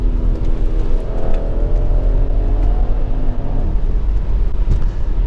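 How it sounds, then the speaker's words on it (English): An Audi RS6 V8 with a high-pressure exhaust accelerates hard, a loud, close rumble rising in pitch through the gears with a faint turbo whoosh layered over the engine note. "There's also a little bit of turbo whoosh coming in as well"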